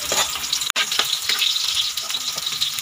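Garlic frying in cooking oil for a seafood curry, a continuous close crackling sizzle with bursts of spattering and a momentary cut in the sound.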